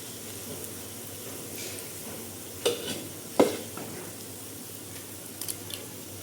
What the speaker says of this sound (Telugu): మంచిగా బ్రౌన్ కలర్ అయ్యేంత వరకు మనం ఫ్రై చేసుకోవాలి